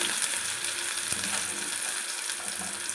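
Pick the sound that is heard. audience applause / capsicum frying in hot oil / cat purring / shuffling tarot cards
capsicum frying in hot oil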